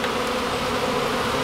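Bees buzzing densely around a beehive, a thick continuous drone of many insects heard up close and loud for a brief moment.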